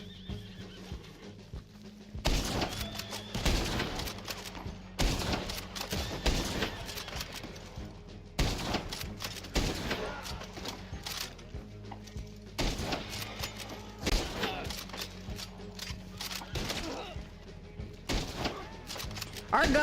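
Repeated gunshots from a firearm in the Western game Red Dead Online, sharp bursts at a few-second intervals over a constant backdrop of horse neighs and hooves.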